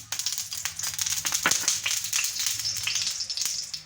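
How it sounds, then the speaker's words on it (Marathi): Oil sizzling steadily on a hot tawa before thalipeeth goes on, a loud, continuous crackling fry close up with no talking. "आता आपला तवा चांगला तापलेला आहे. याच्यावरती थोडंसं तेल सोडून घ्यायचं आहे"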